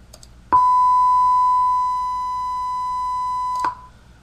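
A high-pitched pure test tone generated in Audacity, one steady beep held for about three seconds, loud and alone, starting and stopping with small clicks.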